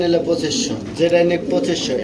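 Giant Sohma pigeons, including a female, coo in low, repeated throaty phrases nearby, with people talking over them.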